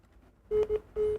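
A telephone rings with short electronic tones, two quick bursts followed by a longer one, clear and fairly close, with no talking over it.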